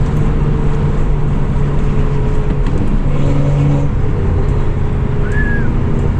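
A twin-turbo Porsche 911 drives with its engine droning at a steady loud level, a continuous low rumble with faint tonal whines and road noise throughout and no talking.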